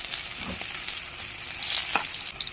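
Garlic browning in hot oil in a pan for fried adobo, a steady close sizzle with a couple of faint stirring clinks, no voices.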